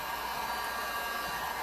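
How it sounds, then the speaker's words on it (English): A heat gun blows hot air onto paint on a beach-themed sand painting, a steady, even whooshing hum that holds without a break at moderate volume. "To me, I really like the heat gun."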